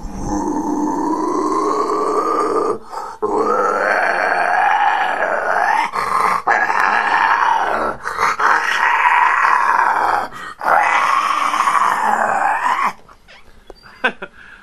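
A man imitates death metal vocals in the style of Infant Annihilator and Lorna Shore, with several long, loud, guttural growling screams in close succession, each broken by brief pauses for breath, then a short quiet stretch at the end.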